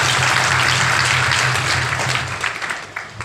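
Church congregation at a Sunday service in Nadiad claps loudly together, a dense close burst of applause with a low rhythmic beat underneath, thinning toward the end.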